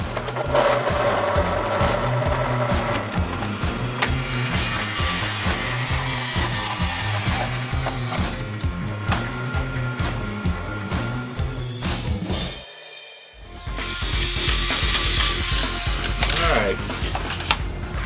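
Steady mechanical whirring with rapid rhythmic grinding as a power tool shaves material off a gun buttstock, running continuously with a brief pause near the end before resuming.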